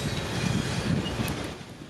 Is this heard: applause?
no